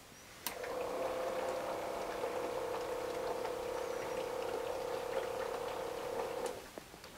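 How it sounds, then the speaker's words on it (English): Pump drawing pink antifreeze through a camper trailer's water hose system while winterizing: a steady droning hum that starts abruptly, runs evenly for about six seconds, then cuts off, no talk. "It should suck up the antifreeze through the system."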